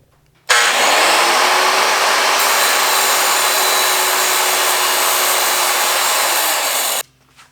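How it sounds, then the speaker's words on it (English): An angle grinder works on metal held in a vise, spinning up abruptly into a loud, steady, harsh whine and grinding hiss that holds for about six seconds before cutting off sharply, with no voices. "I'm going to put it in that vise right there, get the grinder out and grind it off"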